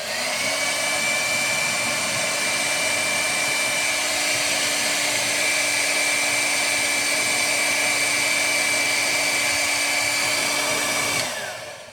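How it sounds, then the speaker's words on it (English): A handheld blow dryer runs in a home kitchen while pizza dough is being made, a loud steady whirring drone with a constant whine that holds for about eleven seconds before switching off. "I use a blow dryer in my kitchen a lot."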